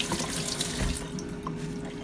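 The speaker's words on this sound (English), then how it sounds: "I'm going to go wash my cucumber." Water from a kitchen sink faucet runs in a steady, close stream while a cucumber is rinsed under it, with no talking.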